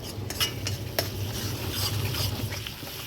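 Masala is stirred and roasted in an iron kadhai, with a low sizzling bed under scraping, clinking strokes of a spoon against the metal, a few sharper knocks, close and moderately loud.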